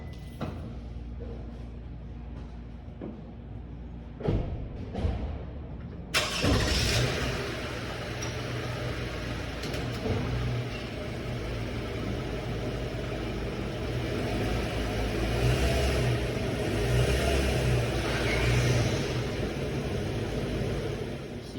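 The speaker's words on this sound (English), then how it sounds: "I'm gonna drive over the ramp, show you from the start to finish." Toyota Sienna minivan engine running steadily as it drives up onto ramps for an oil change, a few clunks early, then a continuous moderate engine drone with slight revving, no talking.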